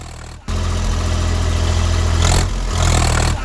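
A farm tractor's engine runs loud and close while the tractor, used for ploughing a sugarcane field, chases a herd of elephants; a steady rumbling drone with a brief cut and slight rise in revs.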